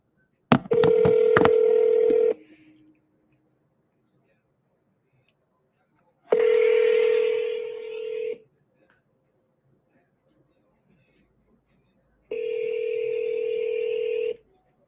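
Phone tones during a real estate wholesaler's cold call to a homeowner: a few quick dialing beeps, then three long, evenly spaced ringback tones separated by silence.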